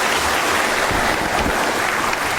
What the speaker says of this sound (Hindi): तो मारो तालियां, देखो।